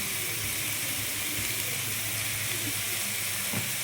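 Oil and soy sauce sizzle in a pan for noodles, a dense, steady hiss with a faint low hum beneath and a small clink near the end.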